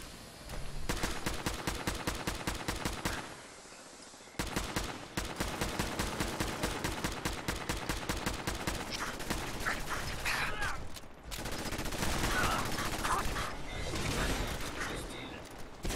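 Rapid bursts of automatic gunfire in Fallout 4, loud and close, firing in long repeated volleys with only brief pauses, fighting a sentry bot robot.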